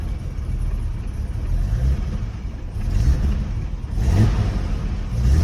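A car engine idling steadily after an air/fuel mixture adjustment, giving a loud, close, low rumble with mild swells in revs and no talking.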